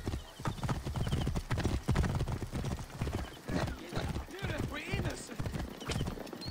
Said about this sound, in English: Bayek, learn how to drive your horse. Or ride your horse, rather.